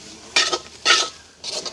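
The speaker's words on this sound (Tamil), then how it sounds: "நாங்கள் தேங்காய் பூவையும் வறுத்தெடுப்போம்" Grated coconut roasting in a pan for crab curry, heard as three short bursts of dry scraping and stirring with a faint sizzle between them, close by and with no talk.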